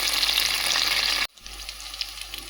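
Curry leaves, mace, cardamom, cloves, cinnamon, green chilli, onion and bay leaf sizzling in hot oil for coconut rice, a steady loud hiss that cuts off abruptly midway, then resumes more softly.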